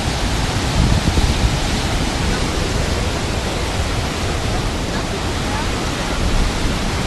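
A powerful waterfall with heavy flow, heard from close by near Airlie Beach to Cairns in Australia, produces a loud, dense, continuous roar that fills the whole clip.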